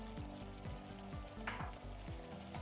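Char siu bun filling of roast pork and sauce, thickened with potato starch, bubbles and sizzles softly in a pan while it is stirred, with a quick rhythmic scraping pattern throughout.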